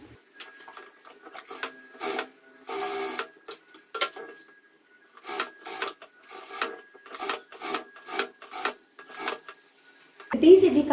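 A sewing machine stitching a round blouse neck piece runs in repeated short bursts of rapid mechanical whirring, with brief pauses between runs and a louder bump at the end.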